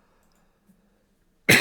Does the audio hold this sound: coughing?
yes